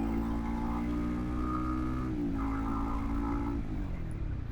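Honda CBR150R motorcycle fitted with a Ronin Katana exhaust, engine running at a steady idle-to-rev hum with a brief dip midway, continuous and close, no talk.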